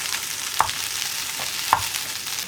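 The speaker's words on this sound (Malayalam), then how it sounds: "നമ്മുടെ കപ്പ ചേർത്ത് നന്നായിട്ട് ഇതുപോലെ ഒന്ന് കുത്തി ഉടച്ചെടുക്കുക കേട്ടോ" Boiled tapioca is mashed and stirred in a pan over a soft frying sizzle, with two sharp knocks of the utensil against the pan.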